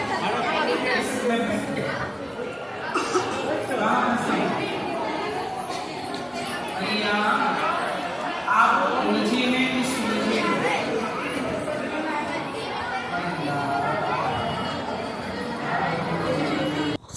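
A large crowd murmurs and chatters continuously at Gauri Gopal ji's ashram in Vrindavan, a dense hubbub of many voices at moderate loudness.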